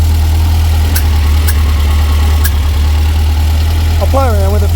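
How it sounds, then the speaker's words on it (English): Engine idles steadily during tuning, a loud, constant low hum with a few brief clicks and a short whistling tone near the end. "So I might just try and back the idle off a bit."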